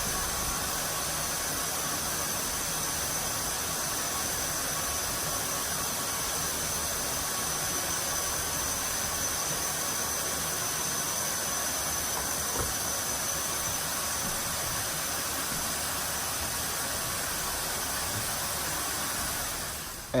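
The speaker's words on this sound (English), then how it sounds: "I have so much fabric to clean on the sofa that I chose my larger sprayer" A large sprayer hisses continuously as it mists cleaning solution over sofa fabric, a steady, even spray held for nearly the whole stretch before tapering off at the end.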